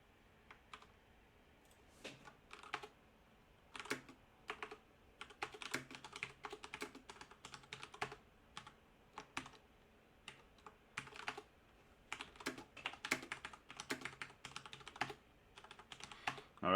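Fingers type steadily on a computer keyboard, keys clicking in quick irregular bursts with short pauses, quiet and close, with no voices.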